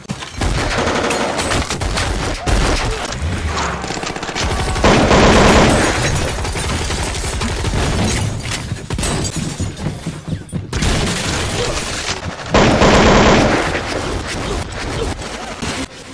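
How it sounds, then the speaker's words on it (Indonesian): Gunfire from a police shootout in the film NYPD, bursts of shots and booms packed densely over a loud, busy soundtrack that runs throughout, with two brief louder surges. "Dan baku tembak pun terjadi."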